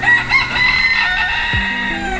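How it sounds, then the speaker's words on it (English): A rooster crows loudly and close among free-roaming chickens in the Florida Keys, its strained call rising over softer clucking that carries on after the crow. "For some reason, there are chickens everywhere down here."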